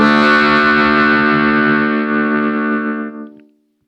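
Harmonica run through an Old Blood Noise Endeavors MAW pedal with saturation distortion on, one loud, buzzy sustained chord packed with harmonics that holds steady and fades out near the end.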